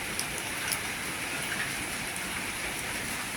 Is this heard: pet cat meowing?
no